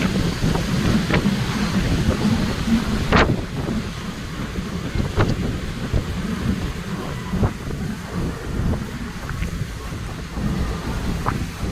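Thunder rumbles and cracks through strong gusting wind as rain begins to fall outdoors, a steady blustery wash broken by a few sharp, louder claps, with no voices.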